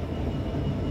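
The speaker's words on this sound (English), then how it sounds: "There goes 66078, 6K27, with a service from Carlisle Yard to Crewe Basford Hall with an engineering train" A Class 66 diesel locomotive hauls an engineering train of empty ballast wagons past at Carlisle, giving a steady, loud, close rumble that fills the whole moment without a break.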